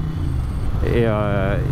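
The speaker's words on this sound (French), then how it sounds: "dès qu'on accélère ou dès qu'on coupe les gaz un peu dans les tours, on entend l'aspiration de la boîte à air" A 1994 Ducati 900 Supersport twin revs on the throttle, its airbox intake and exhaust rising in a rough, throbbing pitch partway through, close and loud with engine rumble throughout.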